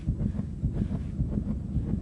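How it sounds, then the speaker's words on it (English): Steady, muffled heartbeat thumping in a regular low rhythm, close and fairly loud, with no voices. "That's my heart beating."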